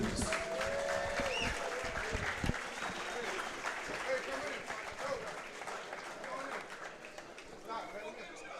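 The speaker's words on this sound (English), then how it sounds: "applause for both fighters, please" Crowd applause at a professional boxing event in Tampa follows a fight stoppage. The clapping is moderate and somewhat distant, with an announcer talking loudly over it throughout.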